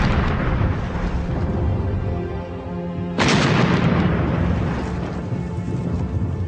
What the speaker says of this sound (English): With ever more accurate artillery barrages softening up the enemy